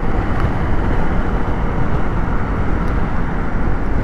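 Haojue NK150 motorcycle engine on a test ride, a steady loud rumble mixed with heavy wind buffeting throughout, with no clear rev changes.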